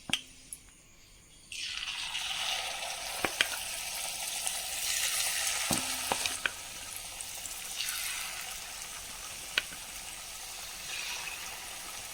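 Cauliflower snack pieces drop into hot oil for deep-frying. After a quiet start comes a sudden burst of bubbling sizzle that carries on steadily, marked by occasional sharp taps and clinks.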